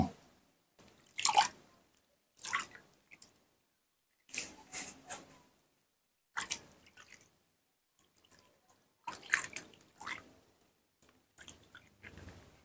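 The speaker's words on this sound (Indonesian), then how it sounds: "Tunggu apa dulu di cuci dulu tangannya." Hands being washed with water during care of an ailing pet, given as short separate bursts of splashing and dripping with quiet gaps between them, close by and without talk.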